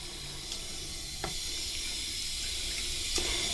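Steady tap water running into a bathroom sink for hand washing knitted and crocheted accessories, a continuous hiss with a few faint clinks, close and moderately loud.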